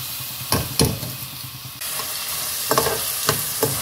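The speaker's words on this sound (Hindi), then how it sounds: "जो 1 कप चावल लिए है उसको हम फ्राई करेंगे हल्का सा।" Rice frying in ghee in a kadhai, a bright close sizzle broken by several sharp scraping strokes of a spoon against the metal, loud and without talking.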